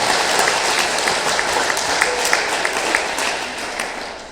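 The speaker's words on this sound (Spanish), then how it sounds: "¿Cuántos le dan un aplauso fuerte al Señor?" A church congregation claps loudly and steadily at a Spanish-language Lord's Supper service, a dense, sustained wash of applause that fills the room from start to finish with no voices over it.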